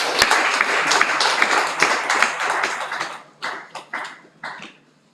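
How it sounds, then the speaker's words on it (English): A round of applause from an audience at a brokers' induction ceremony, dense clapping for about three seconds, then trailing off into a few scattered, separate claps. "Can we give him another round of applause?"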